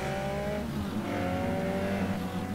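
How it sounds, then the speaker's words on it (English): Car sliding sideways with sustained tire squeal over a steady engine drone during street racing in the MTA:SA Need for Speed server, loud and continuous throughout. "Oh yeah, some actual drifting, very rare."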